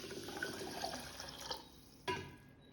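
Water poured from a tap onto washed raw rice for cooking a prasadam recipe, a steady close splashing and trickling fill that ends with a brief louder splash.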